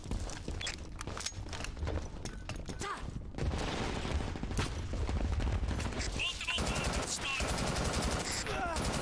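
Gunfire in the video game Brink rattles in fast bursts, loud and near, with dense chattering shots that shift and intensify midway through and continue to the end.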